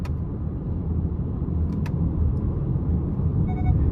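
A 2023 Hyundai Santa Fe SEL with its 2.5-liter four-cylinder and AWD accelerating in sport mode, heard from inside as a steady, fairly loud low engine and road rumble.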